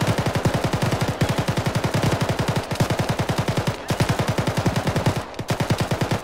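Sustained automatic gunfire rattles through an Arma firefight: rapid, evenly spaced shots in long bursts with only brief gaps, loud and close throughout.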